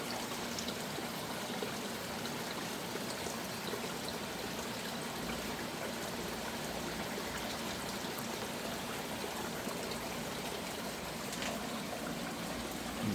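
Water flows steadily through a garden stream, coming in and winding around, a faint, even trickling wash with no voices.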